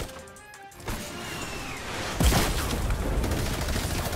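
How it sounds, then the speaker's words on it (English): Rapid automatic gunfire from a minigun in Fortnite, a dense continuous loud burst that starts abruptly and keeps going without letup, heard alone with no talking. "He's got the minigun."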